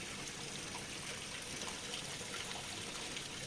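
Spring water flowing down a hillside at a picnic spot near Khordha, heard as a steady, soft rushing trickle that holds even throughout, with no voices.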